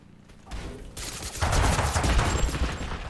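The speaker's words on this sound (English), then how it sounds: "Who's shooting?" Gunfire in Totally Accurate Battlegrounds, a sudden sustained burst of rapid shots, loud and close, continuing through most of the moment.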